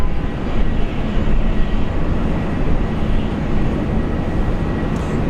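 Boeing 737 airliner taxiing along a taxiway at Brisbane airport, a steady broadband engine roar with a low rumble, constant and moderately near throughout with no talk.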